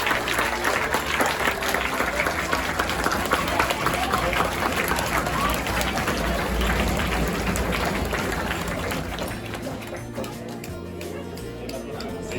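Hands clap in a sustained wash of applause from the audience at an imaginary-map contest award ceremony in Angers, with crowd murmur mixed in, then thin out and fade toward the end.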